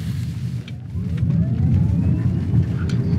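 A VW Golf GTE plug-in hybrid driving in full electric mode, a steady low road and motor hum with a faint rising whine, close and continuous without speech.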